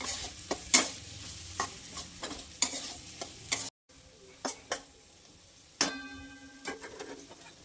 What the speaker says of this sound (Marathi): आता नाही मस्त परतून घ्यायचं कांदा आणि टोमॅटो.